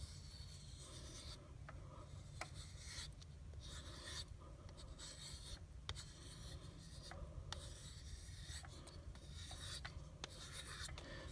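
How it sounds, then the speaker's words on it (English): Knife stropped with micro bevel strokes on a Wicked Edge sharpener using fine diamond paste, a steady faint scraping rub with repeated back-and-forth strokes and occasional light clicks. "see if we can do just a couple micro bevel strokes with knife weight alone"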